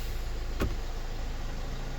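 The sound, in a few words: car engine running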